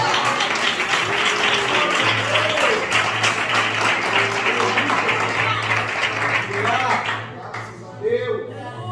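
A worship congregation claps steadily and densely through a church vigil, with voices mixed in; the clapping fades out near the end.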